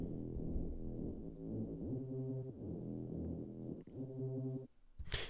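Duplicated synth patch used as a fill layer holds low, droning chords that shift a few times, steady and moderately quiet, ending abruptly with a brief noisy burst.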